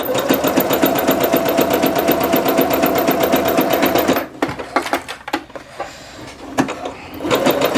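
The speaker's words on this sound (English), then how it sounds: "I'm going to go ahead and backstitch at that first dot, even though I'm doing zigzag stitch, just to make sure." A domestic sewing machine runs a zigzag stitch along a 5/8 inch seam on joggers, a fast steady mechanical whir, then stops into a few clicks and taps before starting again.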